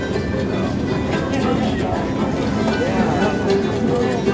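The Palm Springs Aerial Tramway cable car, packed with passengers and rotating as it descends, gives off a loud, unbroken rumble and hum.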